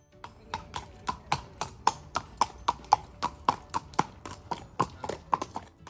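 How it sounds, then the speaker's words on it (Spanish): Horses' hooves clip-clop in a steady, brisk rhythm on hard ground at a Doma Vaquera dressage competition at the Caballerizas Reales in Córdoba, each strike crisp and fairly close, with no talk over them. "Por aquí había más caballitos y estos son los de Córdoba Ecuestre"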